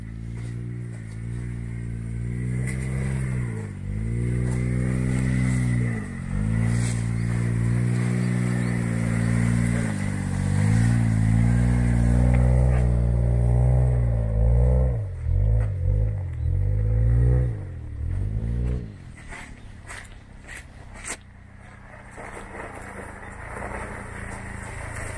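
A Suzuki Jimny off-road car with new suspension revs hard while climbing a rough trail, its engine loud and close, pitch rising and falling through gear changes before dropping to a low idle near the end.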